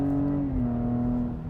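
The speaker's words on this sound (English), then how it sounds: "lots of go, a really free revving engine, great sound, great handling" A 2019 Porsche Cayenne engine revs under acceleration, a loud, steady close-up drone whose pitch dips slightly and then holds as the SUV pulls, with no talking.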